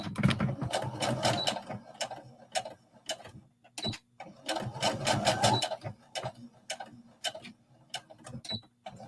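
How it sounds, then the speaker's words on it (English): Sewing machine stitching a knit dress seam with backstitching, running in fast rattling bursts separated by short pauses and ticking stops, close and steady, with no talk over it. "we're just going to sew right down to our marking, making sure to backstitch"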